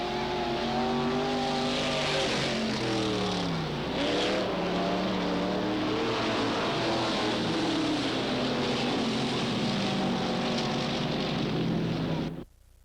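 IMCA Modified race cars, one Chevy-powered, howling around Cottage Grove Speedway in the 1991 Fall Classic, overlapping engines sweeping up and down in pitch as they pass close, loud and constant before cutting off abruptly.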